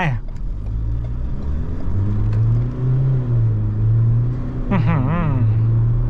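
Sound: Ford Ranger Wildtrak 2022 accelerating 0 to 100

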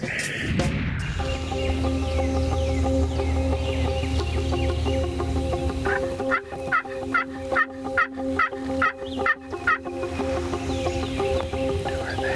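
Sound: wild turkey gobbling

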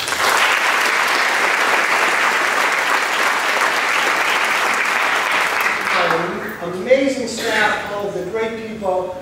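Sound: theatre audience applause

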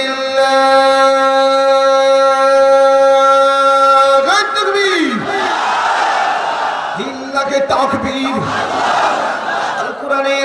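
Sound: crowd shouting takbir, Allahu Akbar

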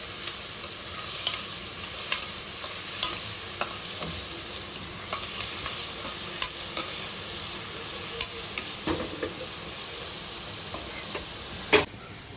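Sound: frying onions and green chillies in a pan

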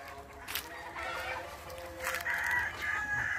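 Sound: rooster crowing on a poultry farm

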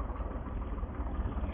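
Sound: tractor engine idling

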